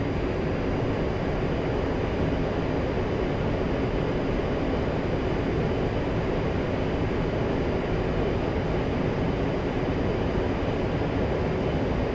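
The twin jet engines of an A-10C run at full throttle in DCS World, making a loud, steady broadband roar with a thin high whine that holds unchanged throughout.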